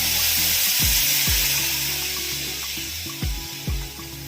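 Masala sizzles loudly in hot oil as water goes in for a fish curry, a dense steady hiss with a few soft knocks. The hiss eases slightly toward the end.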